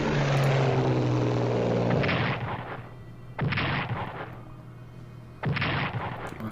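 Bomber aircraft attack in the World War II strategy game Strategic Command, with loud rumbling explosions and droning engines that fade, then come back as two more sharp bursts.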